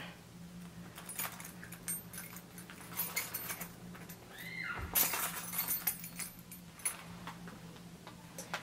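Keys on a six-ring Coach key holder jangle and clink close by in quiet surroundings, in scattered bursts of light metallic rattling.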